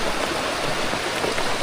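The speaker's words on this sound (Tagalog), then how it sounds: "Sana wag magtuloy-tuloy itong ulan na to." Heavy rain from Typhoon Basyang pours steadily in a dense, loud, unbroken hiss close by, with no voices over it.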